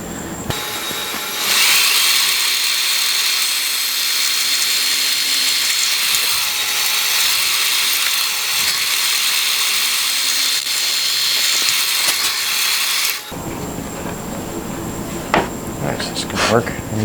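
A power drill runs continuously for about twelve seconds, a loud steady whine while drilling a shop-made drill press table, then stops into quieter shop noise.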